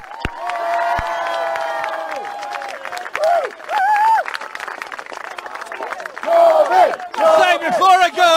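A crowd at a political rally in Teesside cheers and shouts with a loud, sustained roar that rises and falls in bursts, with voices calling out over it.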